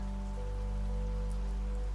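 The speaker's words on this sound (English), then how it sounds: "The rain settled in for the night." Steady rain falls through the night, a continuous even hiss with a low hum beneath it and no breaks.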